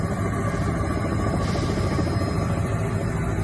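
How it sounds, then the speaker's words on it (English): A helicopter drones continuously in the background, a steady low rotor and engine rumble with a hissing wash above it, unchanging throughout and heard alone without talk. "This is taken from a helicopter. You can hear that in the background."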